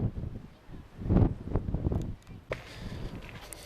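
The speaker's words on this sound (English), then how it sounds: "It is really windy up here" Gusty wind at the summit of Haleakala volcano on Maui buffets the microphone in uneven rumbling bursts, with a few sharp thumps and rustles amid the roar.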